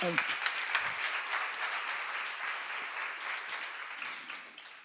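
Church congregation applauding during a Korean sermon seminar, a soft, steady wash of many hands clapping at a moderate distance, fading slightly toward the end with no voices over it.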